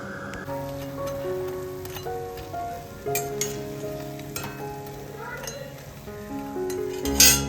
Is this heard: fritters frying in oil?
yes